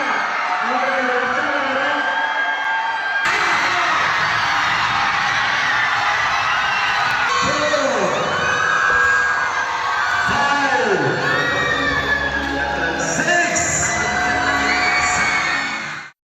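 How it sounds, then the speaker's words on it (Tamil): Students cheering and shouting for athlete Kannan, a continuous loud crowd roar of whoops and yells that swells and shifts and then cuts off abruptly at the end. Voices mix throughout. "அப்போது மாணவ மாணவிகள் கைத்தட்டி ஆரவாரம் செய்து கண்ணனை உற்சாகப்படுத்தினர்."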